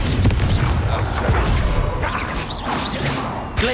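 Confringo blasting spell explosions in the video game Hogwarts Legacy: loud, continuous crashing booms with whooshing effects in a busy battle.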